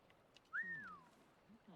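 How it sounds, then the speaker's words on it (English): A single short whistle in Assassin's Creed Rogue rises briefly then slides downward, faint and thin against a quiet background. "What was that whistling sound?"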